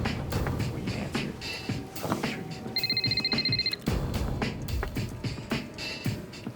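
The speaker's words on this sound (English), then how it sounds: "That afternoon, Paulo's phone rang." A telephone bell rings in a short burst of repeated trills during a tense kidnapping and ransom call scene, set against a busy background of music and movement.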